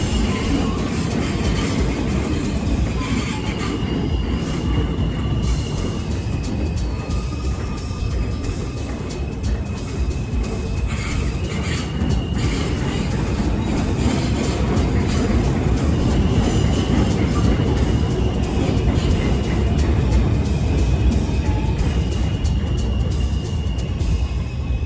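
A New York subway train with open gangways rumbles steadily along the track, filling the car with continuous rolling wheel noise, rattles and faint squeals, with no talk.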